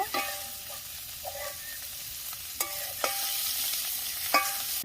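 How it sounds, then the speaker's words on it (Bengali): Shrimp frying in hot oil in a pan, a steady sizzle with a few sharp clinks of a utensil stirring, close and with no talking. "চিংড়ি মাছটা বেশিক্ষণ ভাজবো না, 2-1 মিনিট ভেজে নামিয়ে নেব।"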